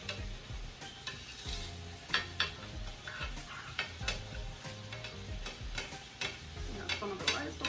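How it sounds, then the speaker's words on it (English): Pigeon peas (gandules) being stirred into rice in a pot for arroz con gandules, with repeated scraping, clinking strokes of a spoon against the pot over a soft background sizzle, close and steady. "you're just going to add the gandules to it and just stir everything together"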